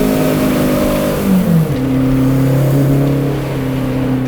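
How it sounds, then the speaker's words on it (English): Renault R5 Turbo on the move, its exhaust droning steadily with rising and falling engine tones and turbo whooshes, loud and close, no talk. "All you hear is exhaust sound and all of these amazing turbo noises"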